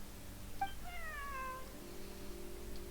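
Bonnie the cat in Genshin Impact gives a short, clear, rising-and-falling meow, close and alone over a faint steady background hum.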